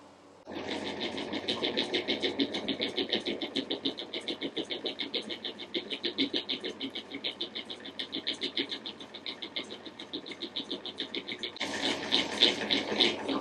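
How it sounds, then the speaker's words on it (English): Magneto spun at around 200 RPM on a Planck spark gap tester, giving a steady, rapid mechanical chatter of evenly spaced pulses throughout, growing slightly louder and harsher near the end. "I got this mag hooked up to the Planck spark gap tester"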